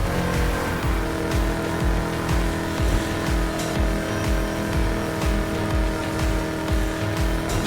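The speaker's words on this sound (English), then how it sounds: "The motor sounds beautiful." Car engine rumble in the racing video game Need for Speed Heat, a loud continuous low throb with rhythmic pulses and tire noise, steady throughout without talk.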